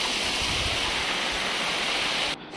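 Steady broadband rush of the Marmala waterfall in the Vagamon hills, Kerala, heard continuously from nearby without voices, dropping slightly in the last moment.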